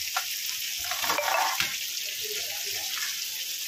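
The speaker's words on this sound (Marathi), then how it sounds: "तोपर्यंत बोंबील फ्राय होत आहेत एका साईडला" Bombay duck (bombil) fish frying in a pan give a steady, close sizzle, a continuous hiss with slight bubbling swells and a few faint clinks.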